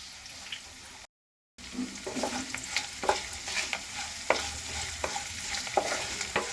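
Asafoetida tempering fries in hot oil for semolina upma, a steady broadband sizzle with repeated scraping stirs of a spoon against the pan, briefly cut to silence near the start, close and fairly loud.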